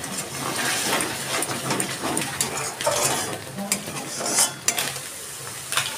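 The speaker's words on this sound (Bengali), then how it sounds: "আমার মশলাটা কষানো হয়ে গেছে" A spice masala with cumin and coriander powder is stir-fried in a pan for milk chicken, giving soft continuous sizzling broken by repeated scraping and stirring strokes of a spatula, close up.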